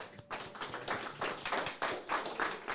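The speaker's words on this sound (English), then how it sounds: "I want all of you guys to give yourselves a round of applause" Scattered clapping from a small group finishing a VA loan masterclass, uneven and fairly quiet, with individual claps standing out rather than merging into a full roar.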